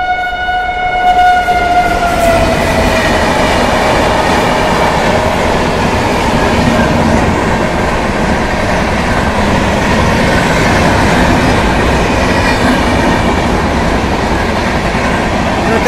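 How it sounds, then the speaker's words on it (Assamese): A train passes near a level crossing gate, sounding a long horn blast at the start, then a loud, steady rumble of rolling wagons fills the rest without letup. "আপোনালোকৰ ভাগ্য আছে ট্ৰেইন আহি গ'ল"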